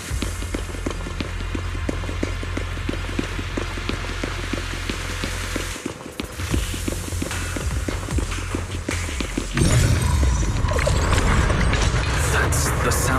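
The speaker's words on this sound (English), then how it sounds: "That's the sound of machinery." Machinery running inside Zenless Zone Zero rumbles in a steady dense wash with rapid clattering ticks, growing louder and harsher near the end, with no talk.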